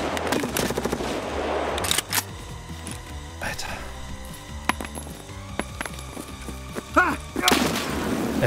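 Large-caliber gunfire in the shooter game Escape from Tarkov rings out in sharp repeated blasts, some heavy bursts standing out near the end, amid steady game noise with voices talking.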